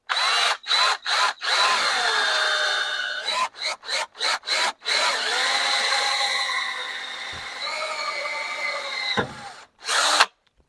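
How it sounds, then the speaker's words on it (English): A power drill whines in short on-off bursts, then runs steadily into the metal idler arm of a 1970 Dodge Challenger, drilling a small hole with a high grinding pitch, stopping and starting again briefly at the end. "So I'm going to drill a small hole in here."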